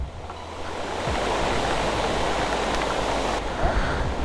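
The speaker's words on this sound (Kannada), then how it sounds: "ಏನು ಫ್ಲೋ ಐತೆ ನೋಡು ಅಲ್ಲಿ ನೀರು." Fast-flowing monsoon water in Kerala rushes in a loud, steady broadband roar, close and continuous with no voices over it.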